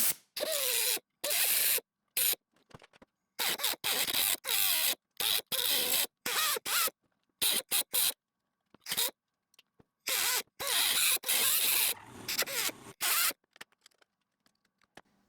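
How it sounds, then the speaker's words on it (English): Loud, harsh grinding bursts of a cutoff wheel biting into rusted roof-corner steel on a 1994 Jeep Cherokee XJ, starting and stopping repeatedly with short silent gaps between cuts. "I'll take my cutoff wheel, get in here, and I'll just kind of cut it out"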